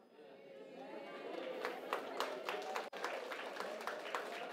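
Audience applause from a crowd gathered for a faith talk, a dense, steady wash of many hands clapping at moderate distance, with a few sharper individual claps standing out and a murmur of voices underneath.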